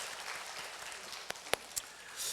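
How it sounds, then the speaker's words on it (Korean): A church congregation applauds at an Easter Sunday service: faint, scattered clapping heard from a distance, with a few sharper individual claps standing out near the end. "우리 한 번 더 우리 영광의 박수 주님께 올려드리겠습니다."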